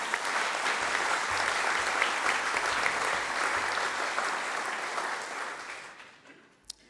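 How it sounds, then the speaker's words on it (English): Audience applause at a community college district board of trustees meeting, steady dense clapping from a crowd in a hall that fades out over the last second. "You give her a round of applause."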